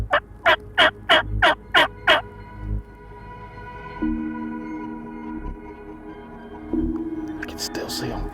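Six rapid, loud wild turkey gobbles in a quick burst in Nebraska, followed by quieter outdoor ambience and faint tonal sounds.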